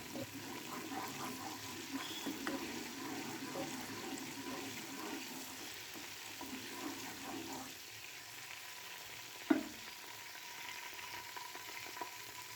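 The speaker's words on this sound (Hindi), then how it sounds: "ऑयल यहाँ पे गर्म हो चुका है, मैं उसमें डालूँगी लहसुन और ग्रीन मिर्च का पेस्ट।" Garlic and green chili paste frying in hot oil for palak gosht, a faint steady sizzle and hiss with occasional stirring and one brief clink, quiet throughout with no talking.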